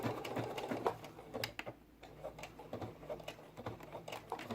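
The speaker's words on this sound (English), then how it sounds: "Reinforce that hem with backwards and forward stitching, and then let the machine do the stitching till the end." A sewing machine stitching the hem of a cotton face mask, close and fairly quiet, its needle chattering in quick rhythmic bursts with a brief pause midway.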